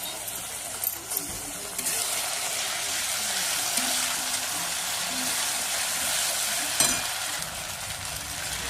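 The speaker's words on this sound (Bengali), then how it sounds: "আদা রসুনটা, আমার পেঁয়াজটা ভালো করে ভাজা হয়ে গেছে" Onion frying in a pan with ginger-garlic paste just added, a steady close sizzle and hiss running throughout, with a brief spoon clink near the end.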